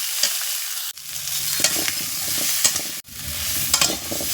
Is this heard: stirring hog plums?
yes